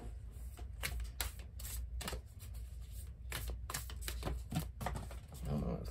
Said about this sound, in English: let's start off your reading by pulling one or two spirit animal oracle cards from the Colette Baron Reed deck